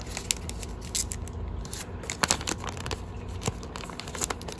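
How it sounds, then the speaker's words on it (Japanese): Soft, close crinkles and crisp paper snaps come from origami paper being creased and folded into a sea bream charm, scattered irregular rustles with no speech over them. "このねペラペラ部分めくって、ここの縁と真ん中の折り筋を合わせて折ります。"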